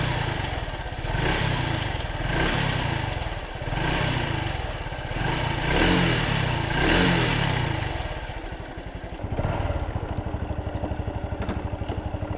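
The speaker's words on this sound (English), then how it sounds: "Let me give you a couple of blips of the throttle." A 2013 Honda Super Cub 110cc motorcycle idles steadily, then its throttle is blipped several times, the engine rising and falling in a series of short revs up close before it settles back to a steady idle.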